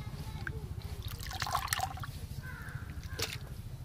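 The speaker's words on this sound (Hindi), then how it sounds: "ये फैल पानी से धो लेते हैं" Water splashes and trickles as snails are rinsed in a container before cooking, with irregular sloshing and dripping sounds up close over a low steady hum.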